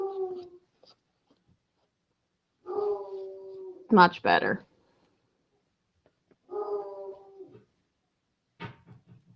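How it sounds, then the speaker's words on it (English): A red-billed coonhound whimpers and whines in short bursts separated by silence, close by, with a brief spoken phrase between the cries. "I hear a dog. That would be my dog. Red-billed coonhound."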